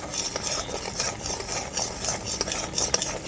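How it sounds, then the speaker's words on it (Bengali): A utensil stirs green chillies through a chhana (fresh cheese) mixture in a pan, making a steady, soft scraping and rustling with faint sizzle, close by and continuous. "এই কাঁচা লঙ্কাটাকেও খুব ভালো করে নাড়াচাড়া করে নেব একসাথে"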